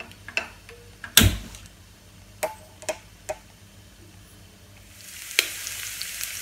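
Garlic fries in olive oil as it comes up to temperature, giving a soft, sparse sizzle with scattered sharp ticks and pops and one louder clatter near the start, and the frying swells into a fuller hiss toward the end.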